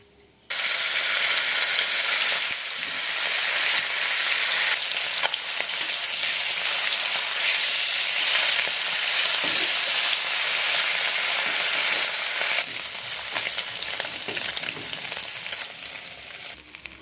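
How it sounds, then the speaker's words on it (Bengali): Khoira fish fry in hot oil for a mustard fish curry, giving a loud, continuous crackling sizzle that starts abruptly and holds for the whole stretch, with occasional scrapes of a spatula. "বাকি মাছগুলোও ভেজে নেব"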